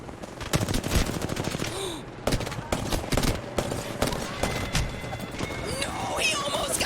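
Rapid gunfire cracks from a Hemlock rifle in Apex Legends, loud and close, firing in quick bursts amid other shots during a chaotic fight, with voices talking over it.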